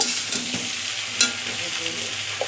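A spoon stirs boiled potatoes with winter vegetables in a hot frying pan, giving continuous close sizzling and crackling with scraping strokes and one brief sharper clink.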